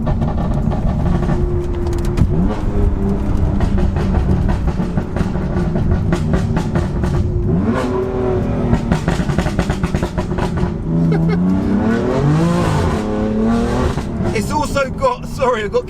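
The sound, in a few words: stage 2 BMW M4 engine revving, 535 brake horsepower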